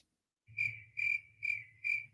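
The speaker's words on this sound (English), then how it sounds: "Crickets." Crickets chirp in four evenly spaced bursts, a bright, clear trilling sound effect standing alone, close and fairly loud, with silence before the first burst.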